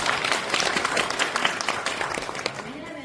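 A crowd at a policy forum claps steadily in a dense patter of applause, with a voice speaking over it.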